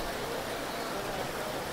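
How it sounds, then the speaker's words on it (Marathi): Monsoon rain falls steadily at an outdoor village market in Poynad near Alibag, a continuous, even wash of hiss with no distinct drops standing out. "पाऊस नेमकाच आलाय"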